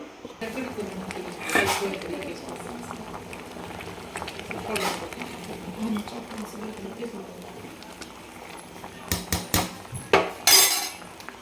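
Dough pieces for varan phal drop into simmering dal in a pot, with a bubbling low simmer, a few clinks of a utensil against the pot, and sharper clatters near the end.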